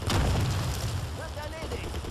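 Gunfire and an explosive boom from the war game Men of War: a deep rumbling blast rolls through the opening moments, with a shouted voice command rising over the fading roar.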